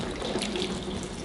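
Water poured onto a car's painted surface during a ceramic coating comparison, a short, continuous splashing pour heard up close.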